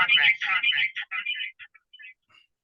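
A phone ringtone signals an incoming call, a run of bright melodic chirps that grows fainter and more broken before trailing off into silence, with no voices.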